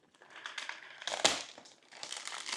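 A box cutter slicing through packing tape on the carton of a Stellarvue SVX152T telescope, rasping crinkles and scrapes with one sharp tearing burst in the middle, close up and with no talk.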